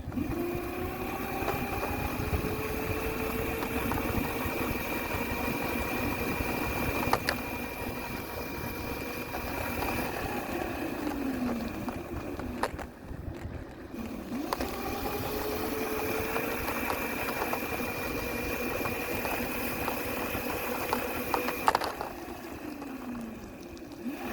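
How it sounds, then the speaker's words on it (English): A Razor Rambler 12 electric mini bike ridden at up to 14 mph around a YMCA pond, giving a steady motor whine with rising and falling pitch sweeps as it speeds up and slows, continuous and fairly close throughout. "here is a video of doing a peaceful ride with my Rambler 12 electric mini bike made by Razor"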